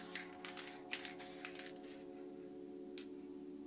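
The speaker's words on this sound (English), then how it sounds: "Spray a bit of squirrel." Several short hissing bursts of Montana White spray paint through a stencil in the first second and a half, then a fainter puff near three seconds, over a steady low hum.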